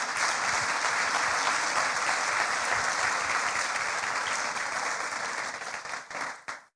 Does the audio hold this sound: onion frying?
no